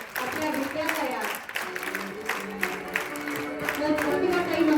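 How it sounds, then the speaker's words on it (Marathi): Applause and crowd noise from an audience at a school annual prize distribution ceremony, steady clapping sustained throughout with voices mixed in beneath. "सगळ्यांनी टाळ्या वाजवायच्या"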